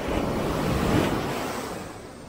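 Ocean surf from a small one-metre swell breaks steadily on a beach on a calm morning, a continuous broadband wash swelling slightly before easing, with some wind across the microphone and no talking.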